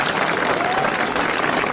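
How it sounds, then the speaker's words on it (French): Studio audience applauding at a 1981 French television variety show, a dense, steady wash of many hands clapping at full strength throughout the short burst. "je vous demande d'applaudir"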